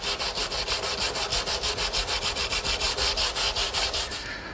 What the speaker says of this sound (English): And then just sand everything flush.